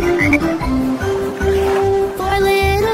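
A frog croak sounds within a children's song about four little speckled frogs, with croaking tones over a steady musical backing.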